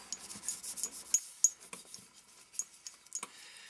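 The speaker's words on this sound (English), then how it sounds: "So we're going to wipe all these surfaces down." Cleaning patch wiped across the metal surfaces of a field-stripped Ruger SR1911CMD pistol, giving soft, close rubbing and scraping strokes with a few small metallic clicks, quiet and without talk.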